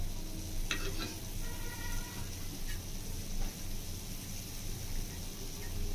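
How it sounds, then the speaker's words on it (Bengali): Sugar syrup for gulab jamun boils steadily in a pan, giving a continuous bubbling sizzle with a few brief scraping clicks of a strainer skimming foam, close and even throughout. "চিনির রসটা ফুটছে আর রসের মধ্যে দেখুন ফেনা কাটছে।"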